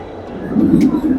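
An ordinary long-distance train runs on an elevated track near Wat Samian Nari station in Bangkok, a low rolling rumble that swells louder over about a second.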